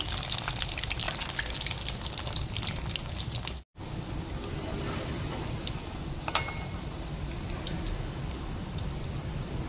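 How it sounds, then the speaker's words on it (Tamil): Jaffna-style rolls fry in hot oil, giving a continuous close crackling sizzle with fine popping. The sound drops out for a moment and then carries on steadily, with no one talking. "ரெண்டு மூண்டை போடுவோம். பொரியட்டும்."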